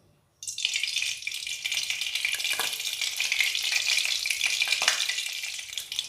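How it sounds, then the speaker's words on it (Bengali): Mustard oil mixed with leftover hilsa-frying oil sizzles in a hot wok, starting abruptly after a brief quiet moment and then hissing steadily and loudly, with a couple of soft clinks; no one speaks. "ওতে দিয়ে দেব কিছুটা পরিমাণ সরষের তেল আর সামান্য ওই তুলে রাখা ইলিশ মাছ ভাজা তেল।"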